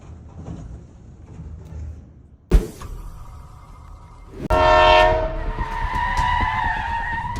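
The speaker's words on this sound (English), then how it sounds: "This train derailment occurred at the Aurora intersection back in 2022." An RTD light-rail train derails at a curve at an Aurora intersection, a sharp metallic bang followed by loud grinding, screeching metal-on-rail squeal sustained and close.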